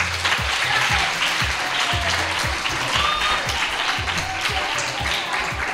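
Strong applause welcoming guest Sharon Calderón on a school radio programme, a loud sustained crowd clapping with some rhythmic low thumps beneath it.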